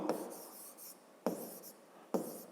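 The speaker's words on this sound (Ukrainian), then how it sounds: "Давайте так і запишемо, що на око." Pen scratching on notebook paper as a sum is written down during a fifth-grade maths lesson: three close, dry bursts of handwriting strokes separated by short pauses, with no talk.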